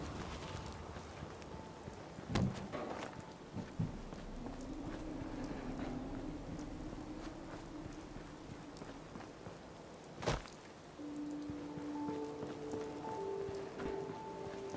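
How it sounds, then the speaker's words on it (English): Steady rain falls in a video game, a soft continuous patter with a few sharp knocks and thuds over it and a faint tonal hum near the end. "How wonderful it'd be to get out of this infernal rain."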